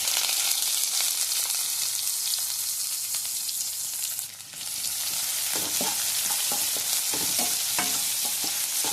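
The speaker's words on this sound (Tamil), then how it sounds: "இப்போ வெங்காயம் ஆட் பண்ணிக்கலாம்" Onions frying in a kadai with cinnamon, fennel, cardamom, cloves and bay leaf, giving a dense continuous sizzle. Toward the end a run of spatula scrapes and knocks comes in, close by, with no talking.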